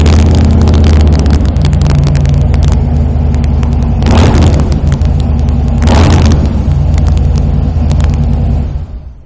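A 2009 Harley-Davidson Fat Boy V-twin fitted with Vance and Hines Big Radius exhaust idles loud and close, a deep lumpy rumble broken by two sharp throttle blips before the engine cuts off at the end.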